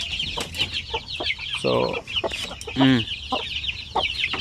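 Native chickens and chicks clucking close by in a farm setting, a busy mix of repeated clucks and short calls, with a person briefly speaking over them.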